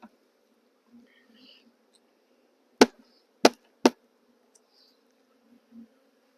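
Honey bees hover around a black-lidded swarm bucket during a swarm capture, a faint steady buzz in the background broken by three sharp knocks.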